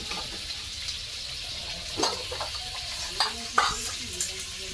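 Frying food seasoned with salt and turmeric is stirred in a pan, giving a soft continuous sizzle with a few sharper scrapes and clinks of the spoon against the pan, close and fairly quiet, with no talking.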